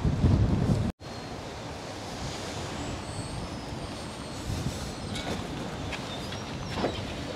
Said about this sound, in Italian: il suono del mare